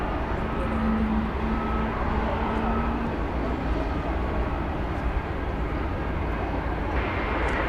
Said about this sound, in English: Martinair Super Cargo Master coming in from Abilene, Texas.